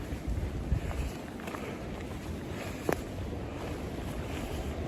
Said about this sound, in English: It is blustery, windy. My goodness, it's windy.